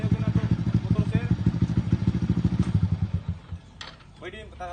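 A motorcycle idles with a steady throbbing putt at a roadside checkpoint, close and fairly loud, while people talk over it before the engine note fades.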